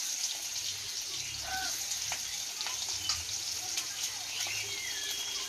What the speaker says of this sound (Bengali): তেজপাতা পাঁচফোড়ন ফোড়ন দিয়ে দেবো কুচানো পেঁয়াজ